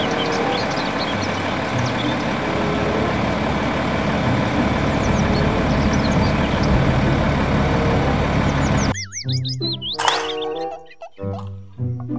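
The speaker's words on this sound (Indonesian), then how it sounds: "Mobil truk pasir." A toy sand truck engine rumbles steadily for several seconds, then stops and gives way to whistling electronic tones and a few clunks.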